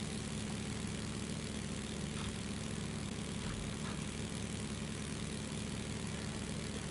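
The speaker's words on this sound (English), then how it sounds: "Can you hear me over the engine?" A boat engine drones steadily throughout a relaxed boat ride in a video game, a continuous low rumble at moderate level with no breaks and no voices.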